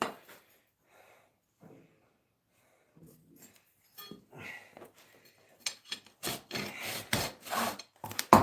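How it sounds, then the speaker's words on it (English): A farrier's rasp files the hoof of a Clydesdale-Quarter Horse cross. Faint scrapes at first build into loud, close, rhythmic rasping strokes that repeat quickly toward the end. "Take the rasp and I'll clean that high spot there."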